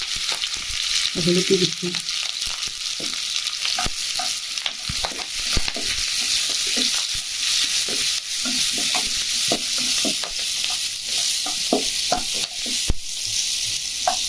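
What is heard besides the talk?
potatoes frying in oil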